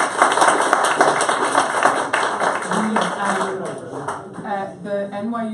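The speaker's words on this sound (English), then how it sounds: "Can we give him another round of applause?" Applause from the audience at an evening talk on Jews, the Irish and Catholic anti-Semitism, a dense patter of clapping that carries on for several seconds with voices mixed in underneath.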